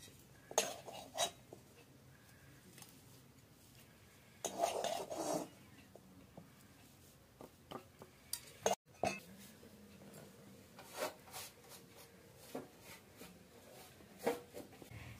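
Cooked chicken for chops being moved from a pan onto a plate: scattered metal spoon scrapes and clinks against cookware, a few louder clusters separated by quiet stretches, close and fairly faint.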